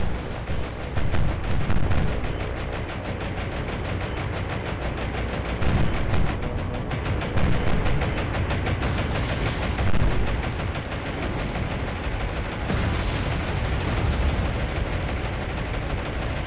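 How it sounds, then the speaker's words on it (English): Continuous heavy naval combat in War on the Sea during the bombardment of Port Moresby, with torpedoes striking a heavy cruiser: dense, loud rumbling explosions and gunfire layered into a thick, unbroken roar lasting throughout. "Torpedoes hit onto the heavy cruiser."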